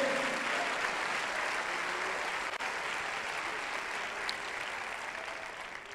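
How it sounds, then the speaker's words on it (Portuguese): A conference congregation gives steady applause that is heard at a distance and fairly softly, holding as an even wash of clapping for several seconds with no voices on top. "dá uma salva de palmas"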